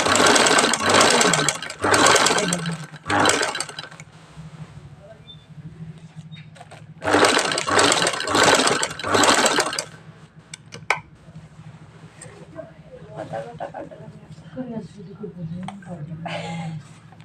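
A sewing machine stitches lace onto a suit in rapid mechanical bursts of whirring needle action, running a couple of seconds at a time with pauses between, while people talk nearby.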